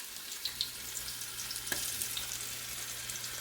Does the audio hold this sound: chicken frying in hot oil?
yes